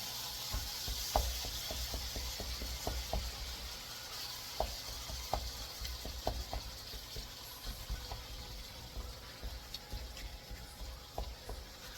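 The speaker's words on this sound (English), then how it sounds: "Let's stir this hamburger meat up." Hamburger meat fries in a pan for a family dinner, giving a steady close sizzle broken by a string of sharp utensil clicks and scrapes as it is stirred. No one speaks.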